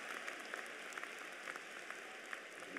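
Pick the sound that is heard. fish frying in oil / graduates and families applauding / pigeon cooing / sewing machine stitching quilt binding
graduates and families applauding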